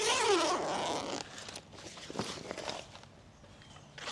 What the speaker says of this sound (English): you will open up the zippers